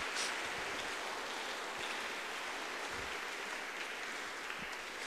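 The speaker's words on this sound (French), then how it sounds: "Merci encore à lui, applaudissez-le." An audience in a cathedral applauds during a thanksgiving concert. The faint, distant, reverberant wash of clapping holds steady, with a few sharper claps standing out.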